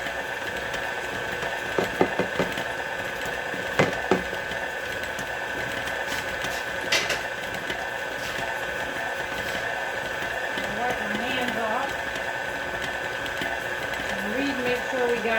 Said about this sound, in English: I just put it in my mixer. Turn my mixer up on my little cutting board.